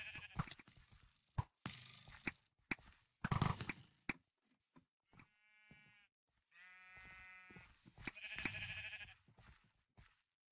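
Sheep bleat in Minecraft, several wavering cries scattered between sharp clicks and bursts of noise, with no talking.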